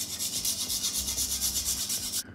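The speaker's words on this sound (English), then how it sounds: "I'm going to grate some nutmeg over the top to finish it." Whole nutmeg grated over a tart just before baking, a close, quiet rhythmic rasping of quick even strokes for about two seconds before stopping.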